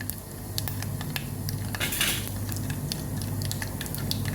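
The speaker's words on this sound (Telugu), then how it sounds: "ఈ ఆవాలు చిట్టపట్లాడాలండి" Mustard seeds spluttering in hot oil in a pan, a close steady crackle of scattered sharp pops with a brief louder sizzling burst partway through.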